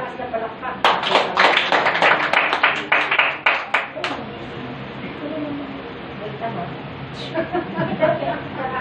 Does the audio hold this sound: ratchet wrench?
no